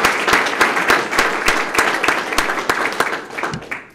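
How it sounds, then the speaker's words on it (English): Close, rhythmic clapping from a small audience at a police swearing-in ceremony, with distinct individual claps standing out over a denser layer of applause that fades toward the end. "So let's give her a round of applause for"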